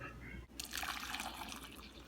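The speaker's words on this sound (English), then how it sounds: "The water is boiling, so we can go ahead and add it to our ginger mixture." Boiling water poured into a ginger mixture, a steady close splashing stream that starts abruptly and continues to the end.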